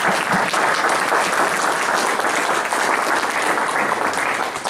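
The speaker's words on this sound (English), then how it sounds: "We'll give you a round of applause." An audience at an annual meeting gives a sustained round of applause for the standing board members, a dense, even wash of clapping from start to finish.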